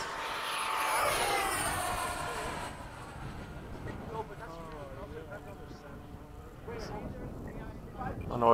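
FMS 70mm F/A-18 RC model jet flying at a field on a windy day, its ducted-fan whine sweeping past loudly then fading into a steady distant drone, with people talking over it.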